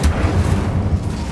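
The Incendio fire spell cast in the video game Hogwarts Legacy, a loud, dense, low rumbling whoosh of flame that holds steady for over a second.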